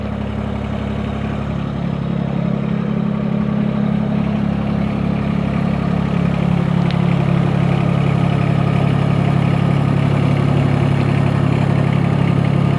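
A 2019 Mahindra eMax 20 HST cab tractor with a 3-cylinder Yanmar engine runs at a steady, loud idle, a low even rumble that holds without change throughout.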